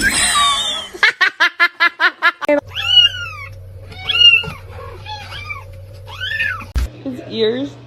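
A pet cat makes a quick run of short, regular cries followed by several longer rising-and-falling meows, close and loud, against a low steady hum with a brief human voice near the end.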